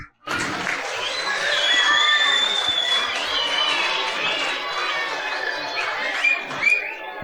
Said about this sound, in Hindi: भट्टी साहब के लिए भरपूर तालियां बजा दें जी